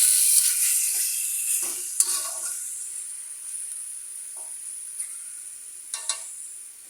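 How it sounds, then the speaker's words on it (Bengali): Beef and raw jackfruit curry frying in a pan, a steady soft sizzle and hiss with several scraping stirs and clinks of a spoon spread across it, close and fairly quiet. "আবার একটু নাড়াচাড়া করে নিই।"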